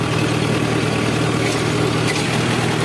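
Mahindra Yuvo Tech Plus 575 DI tractor engine running steadily in a field with a rotavator, a loud, close, continuous low diesel drone with a constant hum and no talk.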